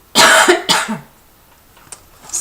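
Two sharp, loud coughs in quick succession close to the microphone, followed by near silence and a faint click.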